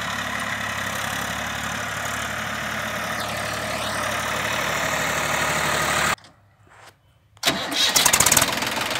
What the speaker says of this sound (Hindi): ये मैसी 241 है। ये लोड नहीं मानता इसका इंजन